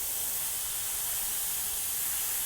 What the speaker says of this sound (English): HPCS Eclipse, I'm just spraying some white pearl directly over the teeth